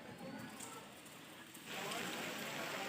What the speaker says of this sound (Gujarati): જમાડા ભેગો તરત થઈ ગયો છે વરસાદ ચાલુ બહુ જાજો.